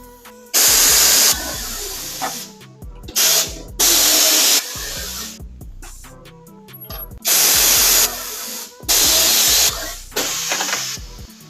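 Spray painting truck wheels on a 2022 Toyota Tundra Capstone: loud close bursts of an aerosol or spray gun hissing in several separate pulses of one to two seconds, with quieter handling noises between them.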